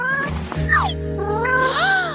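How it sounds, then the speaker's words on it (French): A kitten meows loudly and close by, a drawn-out rising and falling cry followed by a second wavering meow, over a background hum. "Oh, viens ici, mon chaton."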